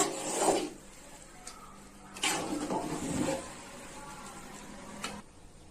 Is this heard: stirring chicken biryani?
yes